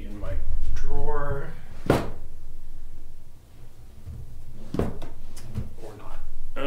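Items clatter and shuffle as someone rummages through a drawer in a quilting studio, with a few sharp knocks among the clutter and talking intermittently over the noise.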